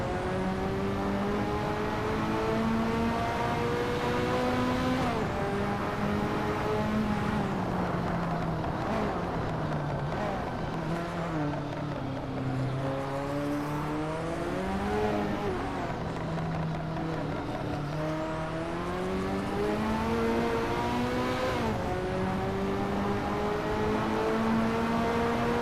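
A Ferrari F40 and another race car drive past, their engines making a loud, sustained drone whose pitch rises and dips as the revs change. The sound is continuous and close, with no talking.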